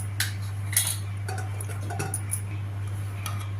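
Urad dal tempering stirred in a pan for a chutney, with several light metallic spoon clicks and scrapes spread across a few seconds, close by over a steady low hum.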